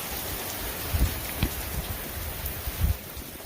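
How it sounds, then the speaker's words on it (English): Heavy rain pours steadily outdoors, a dense hiss with a few louder drops striking close to the microphone. "it's raining really hard, my phone's getting wet"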